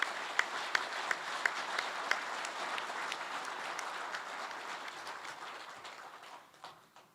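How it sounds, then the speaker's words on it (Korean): Audience applause at a new year gathering of small-business people, a few sharp distinct claps leading into sustained, even clapping from a sizeable hall crowd that gradually thins and fades near the end. "서로 큰 박수 한번 보내주시죠"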